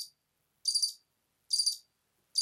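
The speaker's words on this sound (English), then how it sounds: "Crickets." Cricket chirps as a sound effect: short bright trilled bursts repeating at a steady rhythm, clean and isolated against silence.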